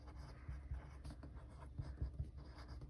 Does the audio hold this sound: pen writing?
yes